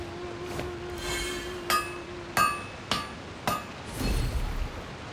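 Metallic hammer strikes ring out during smithing in the video game Genshin Impact, four or five sharp clanging hits spaced about half a second to a second apart, clear and fairly close, with a steady tone humming beneath the first half.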